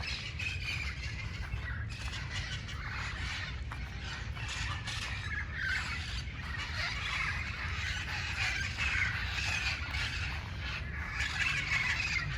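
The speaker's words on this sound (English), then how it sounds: "This couple year parrot coming back." A flock of red-crowned parrots calls in Los Angeles, California, with overlapping raspy squawks and honking notes rising and falling steadily over faint low background noise.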